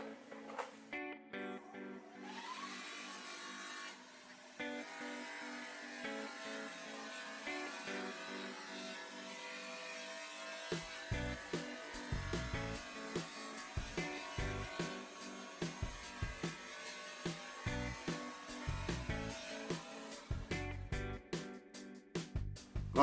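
A buffing wheel spinning at 3,000 RPM with carnauba wax polishes a wooden hexagonal art piece, a steady whirring hum with repeated rhythmic rubbing contacts growing busier toward the end.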